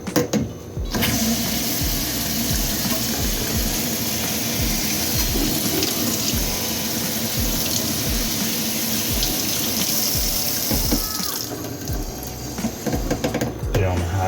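Water from a kitchen sink tap runs steadily while dishes are washed and a cloth is wrung out, a continuous close splashing rush with clinks, and a person talks intermittently over it.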